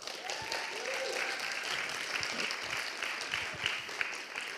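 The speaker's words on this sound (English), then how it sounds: "So a warm round of applause" Steady applause from the audience in a conference auditorium at PyCon Greece, moderate and continuous, with faint murmurs and a few distinct claps underneath.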